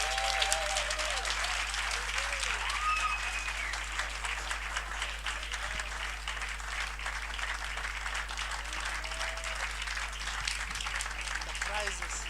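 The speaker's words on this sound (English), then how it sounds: "A round of applause." An audience at an awards ceremony in Pretoria applauds, dense steady clapping from a crowd that fills the whole stretch with a constant low hum underneath.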